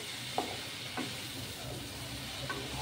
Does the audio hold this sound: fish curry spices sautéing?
yes